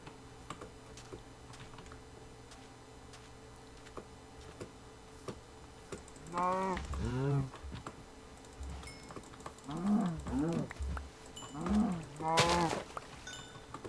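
A Minecraft cow lets out several drawn-out moos in the latter half, loud and near, over steady computer keyboard typing and clicking. Nobody speaks.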